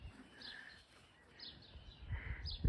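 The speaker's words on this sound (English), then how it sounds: "This is the bird or the bird call you've just been hearing." A tui in Parua Bay, near flowering flax, gives faint, thin whistled notes and chirps at a distance, scattered over a quiet outdoor background with some low rustling.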